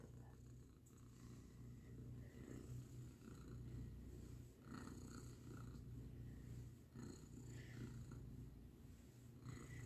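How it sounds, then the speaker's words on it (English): A cat purrs softly and continuously right up close, a low rhythmic rumble with occasional small rustles and faint clicks over a quiet background. "Can you hear her purring?"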